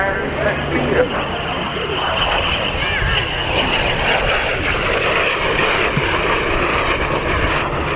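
An RAF Voyager tanker aircraft flies past at the RAF Cosford airshow, a loud, sustained engine roar filling the air while people talk nearby.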